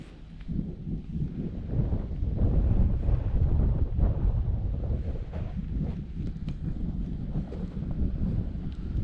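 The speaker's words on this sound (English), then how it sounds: "We had a lot of wind today." Warm, dry morning wind buffets the microphone outdoors, a steady low roaring rumble that swells and eases over several seconds with no voices.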